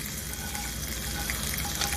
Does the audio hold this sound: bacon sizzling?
yes